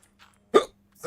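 A person hiccups twice, a sharp loud gulp followed by a second one about half a second later, with a faint breath in between.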